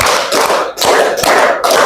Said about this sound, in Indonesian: Sekali lagi tepuk 5.